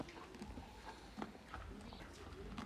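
Hooves of a large mare clip-clop at a walk, soft and fairly distant, with irregular steps over a steady outdoor background and faint voices.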